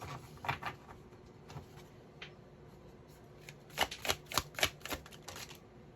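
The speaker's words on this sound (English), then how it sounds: "I want to shuffle one more time." Tarot cards being shuffled at close range, soft riffling bursts early on then a quicker cluster of crisp card slaps and flutters, quiet and with no talking.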